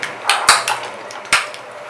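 A spoon clinks and knocks against a bowl while stirring egg with coriander, garlic, cumin and salt: a few sharp, close metallic taps in a short burst, no talking.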